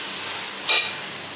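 Chicken biryani masala with mint and coriander sautéing in a pot gives a steady, soft hiss, broken once by a short, brighter scrape or clink of a utensil.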